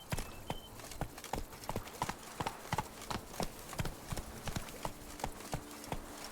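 Hooves of Roach, the horse in The Witcher 3, clopping in a fast, steady galloping rhythm of sharp repeated strikes, fairly quiet within game ambience.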